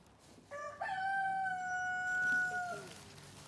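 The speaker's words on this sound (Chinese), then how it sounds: "是个老公鸡啊" An old rooster lets out a single long, loud cock-a-doodle-doo close by, rising then holding a drawn-out note before trailing off, with no other sound around it.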